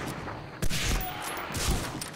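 Gunfire in Medal of Honor: Frontline, a couple of muffled shots, one sharp report near the start and another later, fairly faint under background game sound, no speech.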